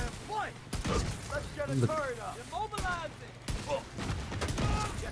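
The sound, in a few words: pistol gunfire in the video game The Division 2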